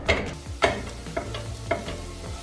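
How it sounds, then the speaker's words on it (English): Chopped vegetables frying in sunflower oil in a pan, with a steady sizzle and several scraping stirs of a utensil at regular intervals, close by. "Dumping everything we just chopped up into this frying pan. So then I'm just heating it up and mixing it together"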